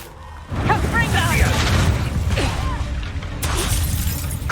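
The Confringo explosive spell goes off in the Hogwarts Legacy video game as a loud shattering boom with crackling debris, followed by rumbling game combat noise and a second sharp burst near the end.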